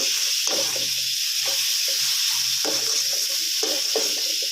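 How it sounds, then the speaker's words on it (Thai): Bacon stir-fried with chilli and ground pepper over high heat, a loud, close, steady hiss of frying broken by repeated scraping stirs of the spatula in the pan, with no talking. "ช่วงที่ผัดนี่นะครับ ใช้ไฟแรงหน่อยนะครับ"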